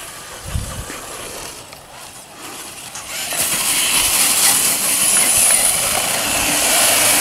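A Traxxas TRX4 RC crawler truck on a 3S battery whirs up to a steady high-pitched motor and drivetrain whine that grows louder partway through and holds with a hissy edge, heard close and alone.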